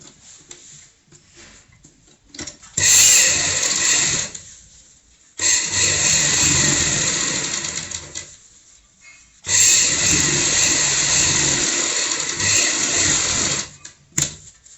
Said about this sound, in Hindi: तो सबसे पहले हम यहाँ पे इस तरीके से सीधी सिलाई लगाएंगे।